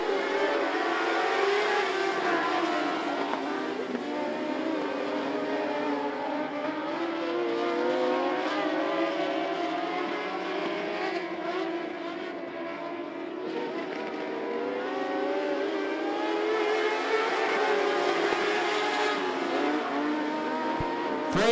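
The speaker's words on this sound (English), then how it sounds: "Coming to green this time, Freddie Prosser Jr., Micah Collins leading" Modlite race cars at I-75 Raceway roar as a pack at the green flag, a dense, steady engine drone rising and swelling from a distance across the track.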